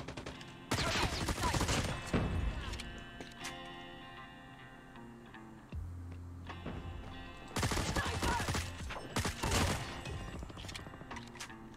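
Rapid bursts of gunfire from the mobile shooter game Call of Duty Mobile crackle in two loud volleys separated by a quieter stretch of softer ticking and game sounds.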